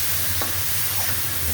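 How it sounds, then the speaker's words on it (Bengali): Garlic, onion and ginger paste with spices frying in oil, a steady close sizzle and stir with no talk over it. "মশলাটা একটু ভাজা ভাজা হোক"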